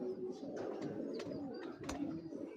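A female pigeon coos softly in low, rolling murmurs, fairly faint and close, with a few light rustles and sharp ticks scattered through.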